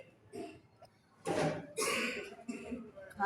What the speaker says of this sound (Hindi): खांसी इतनी हो रही है